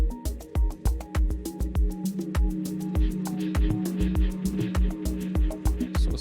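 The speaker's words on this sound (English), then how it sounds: "So a small little arpeggio in the background." A synth arpeggio fill in a relaxed desert house track rises in the background over a steady, punchy kick drum and ticking percussion, bright repeated notes cycling for several seconds.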